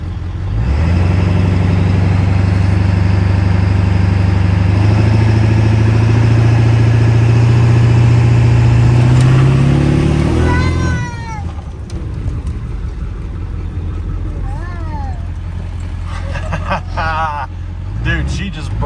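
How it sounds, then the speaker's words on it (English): A Ford 7.3 Powerstroke diesel pickup truck builds boost before a launch, its engine rising to a loud sustained roar for about ten seconds before dropping back to a rough idle, with people talking over it. "Me and my daughter were doing some boosted launches in the truck"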